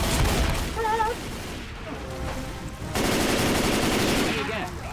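Loud, dense automatic gunfire in the video game Left 4 Dead 2, rattling nearly nonstop in close bursts with booming hits over a busy game soundscape.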